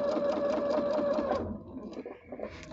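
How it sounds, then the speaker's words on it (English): A sewing machine stitches quilt fabric in a close, rapid whirring run, then slows and stops with a few softer mechanical clicks at the end. "You see how much more I'm able to stitch now"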